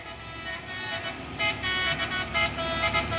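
Trucks sound their musical telolet horns, a bright tooting melody repeating over steady road traffic noise, with people talking nearby.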